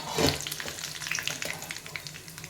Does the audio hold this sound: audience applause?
no